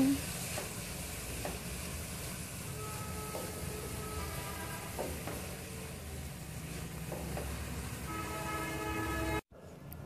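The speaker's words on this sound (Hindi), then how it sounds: "एक मिनट के लिए वेजिटेबल्स को फ्राई किया है" Mixed vegetables frying in a pan while being stirred, a continuous close sizzle with scraping stir strokes scattered throughout, briefly cutting out near the end.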